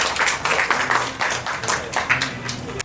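Guests at an engagement ceremony clap together in a brief round of applause, with quick close hand claps in an uneven rhythm.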